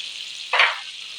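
Chopped garlic hits hot melted butter in a frying pan, bursting into a short, close sizzle that swells for a moment and then settles back into a soft, steady crackle.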